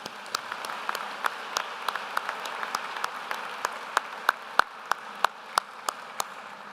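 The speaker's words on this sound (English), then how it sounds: "Could we please give them a round of applause?" Applause in a large hall at a 2023 high school graduation, a steady wash of clapping with a few sharp, louder claps standing out near the front, moderately distant and sustained.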